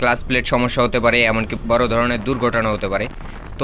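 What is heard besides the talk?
None of the usual background noises is heard.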